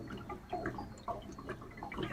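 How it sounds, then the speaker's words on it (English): Wood gas from a DIY producer bubbles through a first-stage filter, giving a run of soft, irregular gurgles and watery pops close by at low volume, with no one talking. "I can really hear it bubbling."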